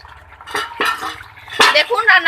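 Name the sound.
lid being taken off a pot of fish curry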